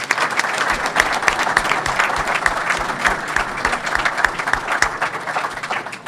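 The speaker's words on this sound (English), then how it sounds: "So let's give them a big round of applause." A gym crowd at a unified high school basketball exhibition game gives sustained applause, with dense, individually distinct claps at a steady, lively level.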